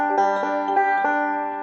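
Banjo plays a two-finger roll starting on the third string, with several plucked notes ringing in a quick even pattern over a sustained, fading tone, without any talking.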